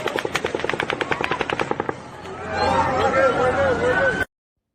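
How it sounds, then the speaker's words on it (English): A volley of automatic gunfire at the Las Vegas mass shooting: a fast, evenly spaced string of loud, distant shots rattles for about two seconds, then gives way to panicked crowd shouting and screaming. "At 10:11 and 34 seconds, the seventh volley of automatic gunfire begins"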